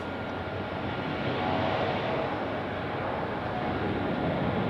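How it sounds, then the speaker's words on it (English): A JetBlue airliner taxis at Raleigh-Durham International Airport, its engines giving a steady, broad rumbling roar at moderate distance that holds evenly throughout, with no talking. "Oh, JetBlue already on the move."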